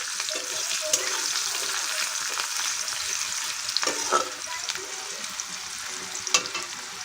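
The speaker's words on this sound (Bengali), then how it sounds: "মাংসটা দিয়ে আমি একটু ভেজে নেব।" Chicken meat fries in a pan with onion and garlic, a constant close sizzle broken by scraping and clatter as it is stirred.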